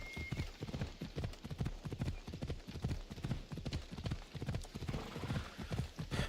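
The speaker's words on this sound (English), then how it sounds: "Finally, the horse can go faster." Horse hooves drum in a quick, steady galloping rhythm, close and continuous, with a brief whinny-like tone at the start, from the video game Assassin's Creed Odyssey.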